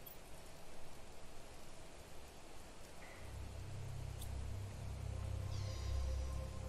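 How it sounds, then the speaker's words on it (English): Steady broadband rain falls in the video game The Planet Crafter, a continuous hiss that swells louder partway through with a deep low rumble joining in, alongside a few faint tonal game sounds. "look at that rain coming down. It's really raining."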